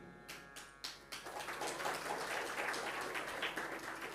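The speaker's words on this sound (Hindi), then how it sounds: "ताली वो बजा रहे हैं, हमने उनको देखा।" Loud applause from a large audience at a Hindu religious discourse, opening with a few separate claps that quickly swell into dense, sustained clapping.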